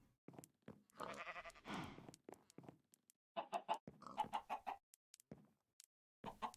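Chickens in Minecraft cluck in short bursts of clipped, repeated calls, separated by brief silences, fairly close and clear with no talking.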